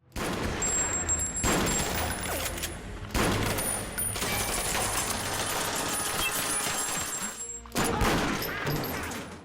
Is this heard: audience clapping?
no